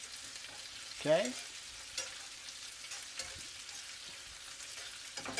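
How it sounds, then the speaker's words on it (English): Marsala wine is stirred into chicken Marsala in a hot pan, a faint soft sizzle with a scrape of the spoon and light clinks, with one brief spoken word. "I'm going to stir that up a little bit like that, get that going."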